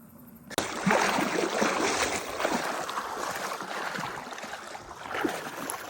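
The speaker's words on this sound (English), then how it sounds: "crossing a freezing river in the middle of the woods" Water rushes and splashes steadily as someone wades across a freezing river in the woods, close and continuous after an abrupt start.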